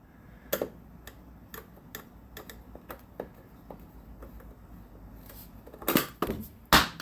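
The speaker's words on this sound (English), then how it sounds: "going through and replacing each of these 7 plastic screws here." Small plastic screws being fitted into the infotainment screen of a 2014 Cadillac ATS, a series of light, sharp clicks and ticks spaced irregularly and close to the mic, with a few louder handling knocks near the end.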